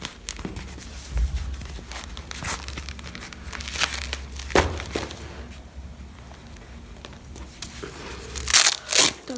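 Packaging of UFC gloves is torn open, with bursts of close plastic crinkling, crunching and tearing. The noises come in irregular handling bouts, and the loudest rips come near the end.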